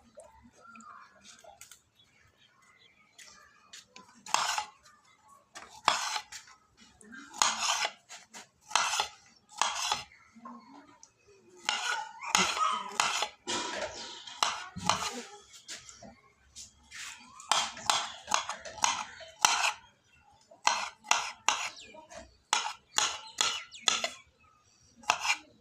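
A knife cuts strawberry pieces on a plate while fruit chaat is prepared, giving many short clinking taps in quick irregular bursts with brief pauses, close and moderately loud.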